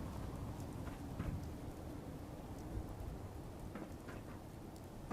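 Steady rain falling with low rumbling thunder in the Fallout 4 video game, a soft, constant wash of rainfall with a faint distant rumble and no voices.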